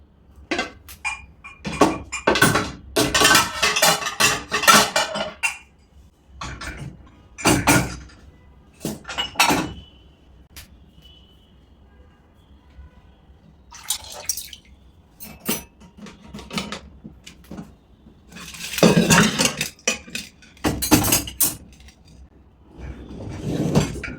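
Pots and mugs being loaded into the racks of a Midea two-rack dishwasher, with irregular bursts of clattering, scraping and knocking close by, separated by quiet pauses.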